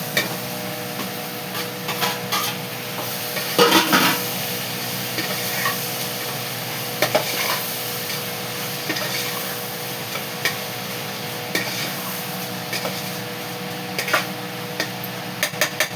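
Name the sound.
stirring and frying onion and tomato in a pan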